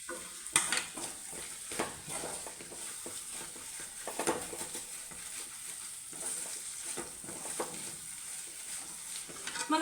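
Ginger and garlic fry in a pan, giving a soft continuous sizzle, while a spoon stirs them and scrapes the metal in irregular clinks and knocks close by, with no one speaking.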